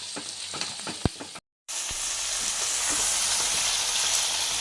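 Onions sizzling in a pan with a pinch of salt while cooking sambar, a few stirring knocks at first, then a steady, bright frying hiss continuing to the end after a brief gap.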